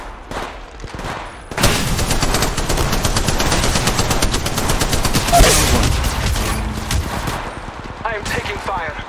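Rapid automatic gunfire in a squad-based shooter game with shields and knockdown shields, loud sustained bursts of close firing overlapping with more shots, while a player talks over the action.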